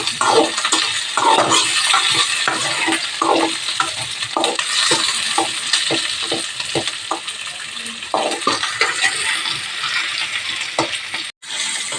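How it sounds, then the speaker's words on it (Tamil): Onion and tomato sautéing in a pan for anchovy fish curry, a bright continuous sizzle broken by repeated scraping strokes of a stirring spoon, close and fairly loud. "தக்காளியும் போட்டுடலாம் மாதிரி நல்லா போட்டு வதக்கி விட்டுருலாம்"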